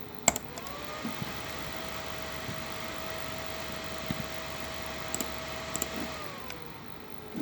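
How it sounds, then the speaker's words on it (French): A Radeon HD 5770 graphics card fan at full speed gives a steady whooshing hum with a faint tonal whine throughout, even and unchanging, with a few tiny clicks and no voices. "je vais mettre à fond la carte graphique, c'est parti, je vous laisse savourer ce moment"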